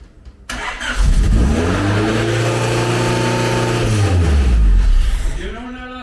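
A Honda B16A VTEC engine fitted in a rebuilt Mini cranks and fires into life, then revs up and holds a high, loud roar before dropping back and blipping again near the end, heard up close.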